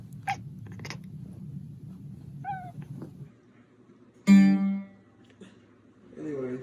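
A cat on a household floor, with short meows and cat calls among bursts of human voices and laughter; background hum, one louder close cry near the middle and light chatter at the end.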